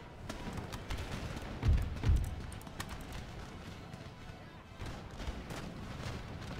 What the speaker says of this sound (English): We'll kind of spread out our artillery fire a little bit on infantry units.